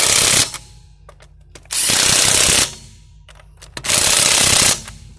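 An impact wrench removes the sway bar link nuts on a 2005 Pontiac Grand Prix. It fires three loud, close, sustained hammering bursts, each about a second long, separated by quieter clicking and handling.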